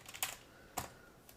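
Typing on a computer keyboard: a few quiet, close key clicks, with two clearer taps and a faint final one, in a quiet room.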